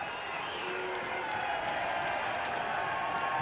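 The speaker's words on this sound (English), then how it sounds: "Melville's fans are trying to find full voice and urge their team with vocal supports" Fans of Melville United cheer and chant at the Chatham Cup final against Christchurch United. The small crowd gives off a steady, even roar that carries through without breaks.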